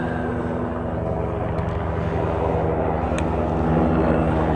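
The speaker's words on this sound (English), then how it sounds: "Helicopter going over." Helicopter flying over an outdoor high school boys' soccer game, a continuous broad low rumble that swells slightly louder toward the end, steady and fairly close overhead.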